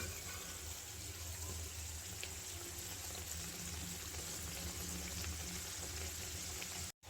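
Chandrakala sweets frying in hot oil, sizzling in a steady, continuous bubbling hiss that stays close and even with no talk, cutting out abruptly near the end.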